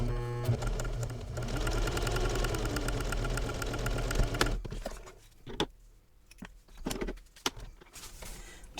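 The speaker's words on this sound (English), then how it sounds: "now I'm going to sew going down" A domestic sewing machine stitches a travel belt with a fast, steady motor whir for about four seconds, then stops and gives way to scattered clicks and handling sounds.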